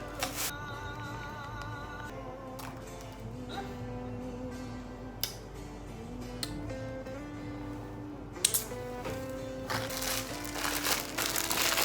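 Soft crinkly squishing and crunching of salad ingredients being squeezed and tossed together by hand, close by, under steady background music.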